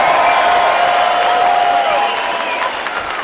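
A big rally crowd at a Donald Trump event in Phoenix in July 2015 roars and cheers in a steady, loud wash of voices that thins slightly toward the end.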